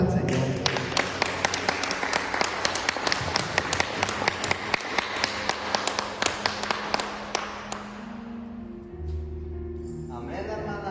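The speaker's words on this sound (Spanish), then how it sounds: "Dale un aplauso al Señor." A church congregation claps during a worship service, a sustained crackle of many hands with sharp individual claps standing out, tapering off after about eight seconds before a low hum and voices take over.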